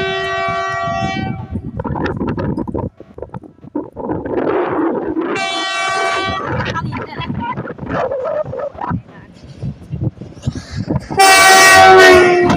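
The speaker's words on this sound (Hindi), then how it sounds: "ट्रेन आने वाली है।" A train crossing the Lalpul railway bridge in Shahjahanpur, a loud sustained rumble and clatter of wheels with repeated blasts of the horn, close by and building to a loud finish.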